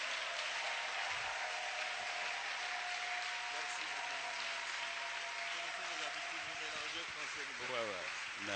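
A church congregation applauding and cheering, sustained dense clapping with voices rising through it, while a speaker's voice carries over the crowd.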